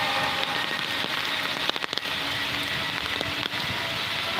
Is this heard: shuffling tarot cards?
no